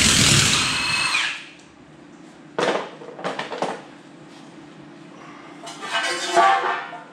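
A power tool driving lug nuts onto the studded wheel of a 1966 Ford F100 pickup, with a loud whirring burst at the start, then shorter rattling bursts and clunks separated by quieter gaps.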